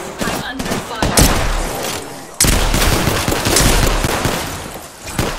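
Rapid automatic gunfire in a match of the battle-royale game Apex Legends, loud bursts of shots broken by short pauses and a sharp cutoff midway, with no speech over it.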